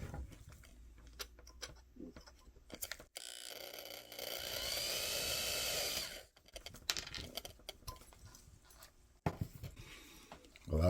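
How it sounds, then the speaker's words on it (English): A power drill whirs in a steady three-second burst while drilling out the engine mount rivet of a small die-cast Matchbox Baja Buggy toy car, framed by quiet handling clicks and taps before and after. "Gonna have to drill that out."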